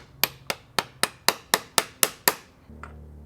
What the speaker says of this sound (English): we're gonna take a smaller hammer and we're just gonna,